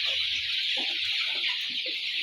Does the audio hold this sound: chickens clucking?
yes